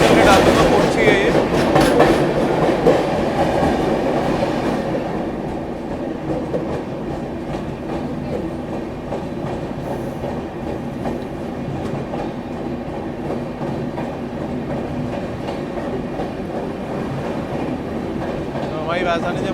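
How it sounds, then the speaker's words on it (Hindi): The Trivandrum Rajdhani Express, train 12431, picks up speed out of Surat. From aboard, wheels and carriages give a steady, loud rumble with rhythmic clatter, a little fuller at the start. "तो हमारी राजधानी ने बढ़िया पिकअप उठाया यहाँ से सूरत से"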